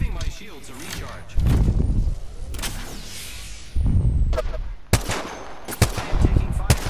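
Gunfire during a battle royale video game match, a few heavy bursts and sharp cracks, some near and some more distant, with a voice talking between them.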